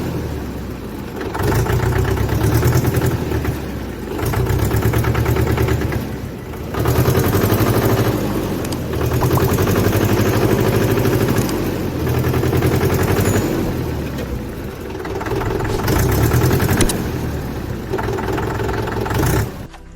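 Mahindra 575 diesel tractor engine running with an air problem in the fuel system, a loud, close, heavy clatter that surges and dips in a regular rhythm every couple of seconds, with no talking.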